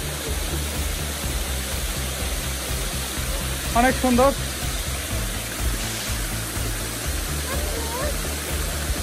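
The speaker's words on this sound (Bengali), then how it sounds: "এখানে চিংড়ি ঝর্ণা নামে একটা ঝর্ণা পাচ্ছি। এই ঝর্ণাটা অনেক সুন্দর।" The Chingri waterfall on the trekking route to Keokradong rushes as a steady, broad roar of falling water, with a person speaking briefly over it.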